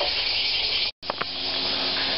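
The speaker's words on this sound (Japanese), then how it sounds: "てかセミ鳴きまくってますけどね。" Cicadas drone in a dense, steady high-pitched hiss throughout a pine forest at Niji no Matsubara in Karatsu, Saga, broken only by one very short silent gap, with faint rustles afterward.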